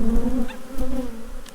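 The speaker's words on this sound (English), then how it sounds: "we just shake these bees off" Close, steady droning buzz of many honeybees being shaken off a hive frame during a honey harvest, a low hum with slight wavering and a few soft thuds, heard alone without voices.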